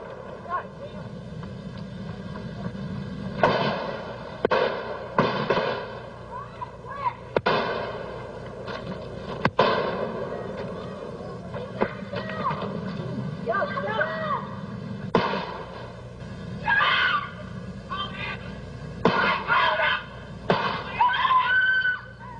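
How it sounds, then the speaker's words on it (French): Eleven sharp gunshots crack at irregular intervals within about 22 seconds as two men exchange fire on a road, some distant and some closer, under people talking and shouting throughout. "les deux hommes échangent 11 coups de feu en moins de 22 secondes"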